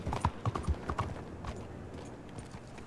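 Horse hooves clip-clop in a video game, a quick run of close, distinct hoofbeats that fades into quieter, scattered steps toward the end.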